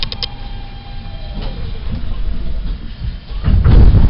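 A New York subway W local train runs along, a rumbling rattle of rail cars with scattered clanks, building to a louder, heavier roar near the end.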